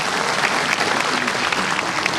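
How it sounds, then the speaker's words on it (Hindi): Audience at a live public event applauding in welcome of an arriving guest, steady dense clapping from start to end with a faint murmur of voices underneath. "तालियों से स्वागत करें।"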